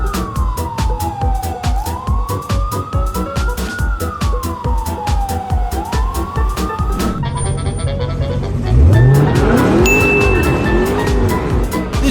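A police siren wails in a rising and falling sweep behind the steady road rumble of a car overtaking another vehicle, then cuts to a louder, more chaotic siren mix with engine noise at close range.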